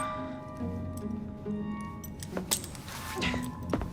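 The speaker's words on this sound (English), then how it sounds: "Now hand over your keys." Keys jangle as they are handed over in Assassin's Creed Syndicate, a few close metallic clinks and rattles around the middle and end of a short stretch over a steady game-world hum.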